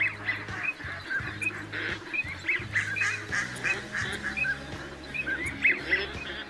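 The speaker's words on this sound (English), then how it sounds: "there is a variety of ducks on the water. And they're all making their own sound," Mixed flock of live ducks, including mallards, calling on the water: overlapping quacks and honking calls, steady and fairly close, with no talking.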